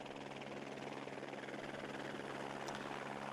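A Eurocopter AS350 B3 Écureuil helicopter, the model that set an altitude landing and takeoff record, gives a steady, continuous rotor and turbine drone at moderate, even level throughout, with no voices.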